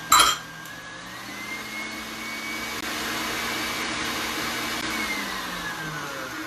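An electric stand mixer runs at full speed whipping meringue for macarons, a steady whirring drone after a brief startup burst, with the motor pitch gently rising and falling.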